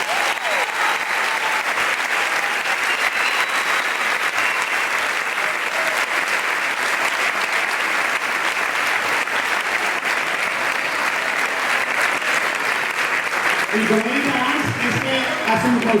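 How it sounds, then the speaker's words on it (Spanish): Sustained audience applause rings out at an end-of-year Catalan choir concert, broad steady clapping that fills the room at full strength, with some voices and a little talk creeping in near the end. "Per favor, un fort aplaudiment per a ells"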